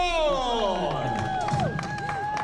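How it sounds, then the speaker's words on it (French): A crowd at the Haute Route cycling event applauds and cheers a rider, a scattered patter of clapping that swells in the second half while a loud voice speaks over it. "Vous l'applaudissez bien fort!"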